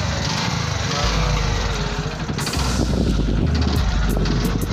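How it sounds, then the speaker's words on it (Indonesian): A Yamaha Vixion 150cc motorcycle engine, fitted in a Lamborghini replica body, idles and revs loudly up close, with a rough throttle surge midway and steady mechanical rattle. "Suara motor."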